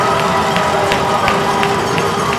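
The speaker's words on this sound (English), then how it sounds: "This crowd is loving this tonight." Arena crowd at a UTSA versus LSU college hockey game roaring steadily after a Roadrunners goal, a dense continuous wash of cheering with faint sharper accents rising above it.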